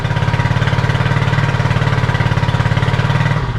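A Honda CB250RS motorcycle engine idling close up, a loud, steady, evenly pulsing putter with a regular rhythmic beat and no voices over it.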